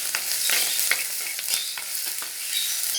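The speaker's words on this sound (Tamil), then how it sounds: "இது பச்சை வாசம் போகிற வரைக்கும் நல்லா ஃப்ரை பண்ணிக்கலாம்" Garlic and ginger-garlic paste sizzle steadily in a pan for pepper chicken, with close scraping stirs of a spoon cutting through the hiss and no voices.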